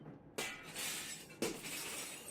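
Glass shattering in the Secret Files video game: two sharp, bright breaking crashes about a second apart, each followed by a lingering tinkling spray of shards, with no talking.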